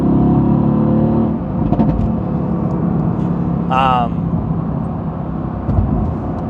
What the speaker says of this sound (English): I gotta get ahead of this truck.